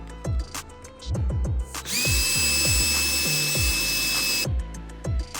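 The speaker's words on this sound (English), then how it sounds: "I'll try drilling it out." A power drill whines at a high pitch for several seconds while drilling out a bolt on a 1990 Honda CRX, with ratcheting clicks and handling noises before and after.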